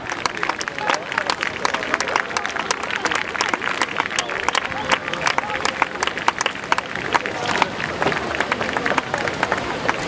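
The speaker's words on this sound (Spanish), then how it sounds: "Un fuerte aplauso para Arcote," Sustained crowd applause at a rowing regatta in Mundaka, a dense, steady rattle of many hands clapping for a rowing team, loud and continuous, with crowd chatter mixed through.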